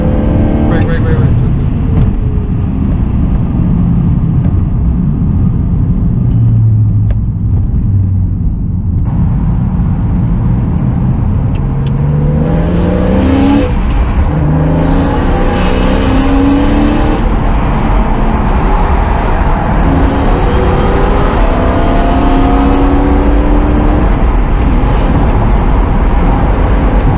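A BMW M3 drives and revs with a raspy engine and exhaust note, rising and falling through several gear pulls at close range, with loud excited voices talking over it.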